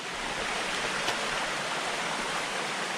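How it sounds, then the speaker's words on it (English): A waterfall and stream rush continuously nearby along a climbing route, a loud, broad, even roar of falling and flowing water with no talking. "There's a bigger waterfall there."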